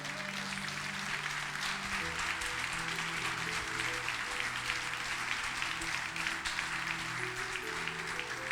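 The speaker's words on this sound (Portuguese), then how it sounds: "Quem crê, aplauda e glorifique ao Senhor" A church congregation at a men's service claps together in sustained applause while music plays softly beneath, a steady, moderately distant patter lasting the whole stretch.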